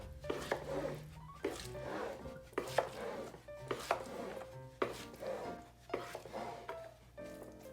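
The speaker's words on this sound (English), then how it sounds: "And separate the rice with the slicing motion." Cooked sushi rice gets cut through and separated with a paddle in slicing strokes, a soft series of rhythmic scraping and tapping passes, quiet and close.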